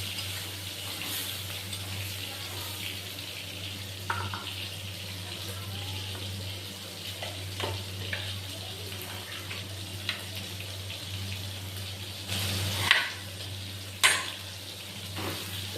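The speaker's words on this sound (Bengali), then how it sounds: "আলুগুলোকে একটু নাড়িয়ে চাড়িয়ে সিদ্ধ হতে দেব।" Potatoes stirred in a pan as they cook, giving a steady, close sizzling bubble with occasional louder scrapes and clinks of the spoon toward the end.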